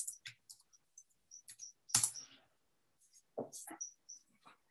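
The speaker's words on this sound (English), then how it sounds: "here typing some" Fingers type on a computer keyboard in short bursts of crisp, close key clicks separated by pauses, with a louder clack in the middle.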